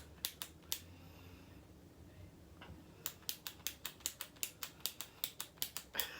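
A cosmetic lip product applicator is clicked repeatedly, giving sharp, close plastic clicks: a few at the start, then a quick steady run of about a dozen clicks, all in a quiet room with no talking.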